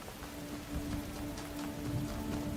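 Steady rain falling in the video game The Talos Principle Reawakened, a continuous soft patter with a faint low hum beneath, no voices.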